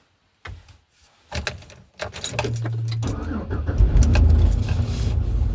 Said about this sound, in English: So, now that the car is uncovered, let's try taking a little drive.